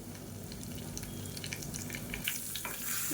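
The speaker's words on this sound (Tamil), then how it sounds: "கடுகு சோம்பு பொரிய ஆரம்பிக்கவும்" Mustard and fennel seeds splutter in hot oil at the start of a South Indian kulambu, making a soft continuous sizzle dotted with small crackling pops that grow slightly busier toward the end.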